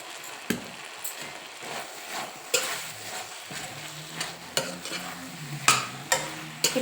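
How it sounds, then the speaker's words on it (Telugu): Masala with a spoon of coriander powder dry-roasting in a pan for a brinjal and potato curry, a steady soft sizzle broken by a few sharp scraping stirs and clinks of the spoon against the pan. "ఈ మసాలా వేయించుకోవాలి"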